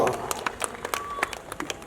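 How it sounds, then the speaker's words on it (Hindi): Seminar audience applauding a trophy presentation, scattered hand claps in a room, moderately close, with a voice talking over the clapping. "एक बार जोरदार तालियों मित्रों"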